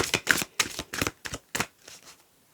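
Tarot cards being shuffled by hand, a series of about eight crisp riffling bursts in an uneven rhythm that fade toward the end, close and fairly quiet with no talking.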